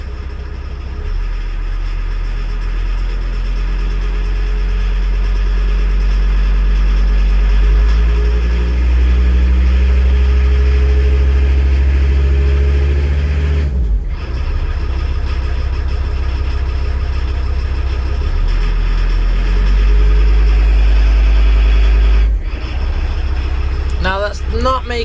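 A VW T4 van engine idles and is revved a couple of times, its low steady rumble rising and falling under continuous close talking.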